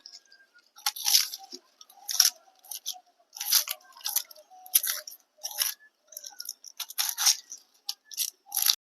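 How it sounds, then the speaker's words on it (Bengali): A knife quickly chops onions, garlic, ginger and a small tomato on a board, giving about a dozen crisp, crunchy cuts in a fairly regular rhythm. The chopping is close and alone, with silence between strokes. "তিনটে মিডিয়াম সাইজের পেঁয়াজ একটা রসুন আদা আর হচ্ছে একটা টমেটো ছোট সাইজের এগুলোকে আমি সব এবার চটপট কেটে নেবো"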